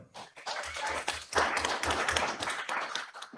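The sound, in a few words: audience clapping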